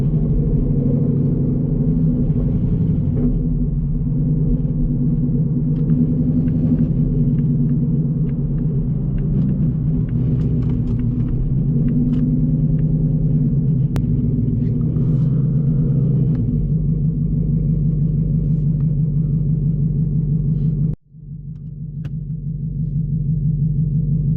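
A Whipple-supercharged S650 Mustang GT with a 10-speed gearbox, out on a cold morning, gives a steady, loud low rumble. It holds for about twenty seconds, then drops off abruptly for a moment before picking back up.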